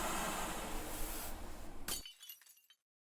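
Window glass shattering in the video game Chasing Tails, a sharp crash that breaks into scattered tinkling shards and quickly fades to silence after a dense rumble.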